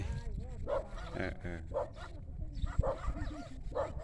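Dogs bark repeatedly at visiting people in a rural village, a few short barks spaced through the moment with people talking over them.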